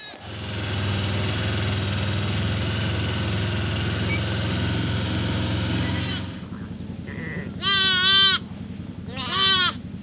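Sheep and lambs on a New Zealand farm during lambing, a droning engine for the first six seconds, then two loud, wavering bleats nearby after it stops.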